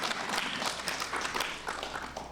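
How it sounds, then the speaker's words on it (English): At a public announcement about Sunday opening hours, a crowd applauds, a soft, steady patter of many hands heard somewhat distant and fairly quiet over a low background hum. "I'm going to clap for that"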